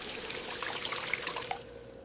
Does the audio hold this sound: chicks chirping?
no